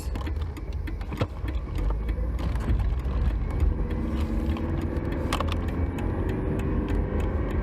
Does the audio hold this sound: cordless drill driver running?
no